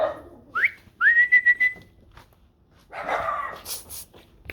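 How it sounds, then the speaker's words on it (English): Dogs bark and yip close by, with a sharp rising whistle just before and a cluster of yelps toward the end, no talk over them. "The traditional interruption from the dogs."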